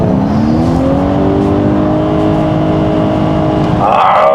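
A 2021 Honda CR-V Hybrid engine revs hard and steadily in sport mode, its pitch climbing, then surges louder near the end; close and continuous, with no talking.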